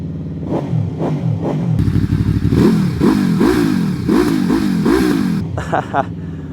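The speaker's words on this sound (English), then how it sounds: "It is time for us to start the bike. Let's listen to the engine." QJmotor SRV 600 motorcycle engine starting up, then loud, close revving in a series of rhythmic throttle blips, ending with a short drop to idle.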